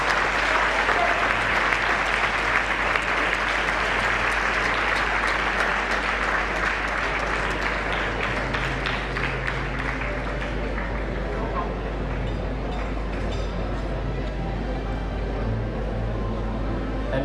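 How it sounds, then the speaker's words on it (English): Audience at an Interact District assembly applauds steadily for about seventeen seconds, a dense, sustained wash of clapping from a large crowd with faint crowd murmur underneath, gradually thinning toward the end. "can we please have one more round of applause for these two clubs?"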